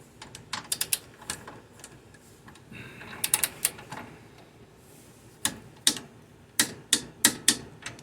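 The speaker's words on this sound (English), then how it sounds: "I'll just snug this down till the torque wrench tells me I am at" Torque wrench ratchets while a nut on the upper control arm of a 2011 Mercedes GLK 350 X204 4Matic is snugged down, with sharp, close clicks in irregular clusters and quiet gaps between them.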